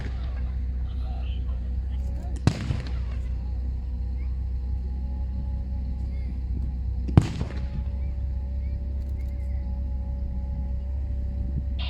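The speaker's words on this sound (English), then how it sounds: "we've got artillery, heavy artillery, long-range artillery coming in on the machine gun position" Heavy long-range artillery firing at a late World War Two reenactment battle at a tank show: two loud, distant booms several seconds apart over a constant low engine rumble, with a voice talking throughout.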